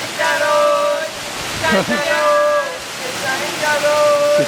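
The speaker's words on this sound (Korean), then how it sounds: "폭포에 올라왔습니다, 드디어" A constant rushing roar of the Dare Gahan waterfall in Iran fills the scene while people nearby talk and sing over it.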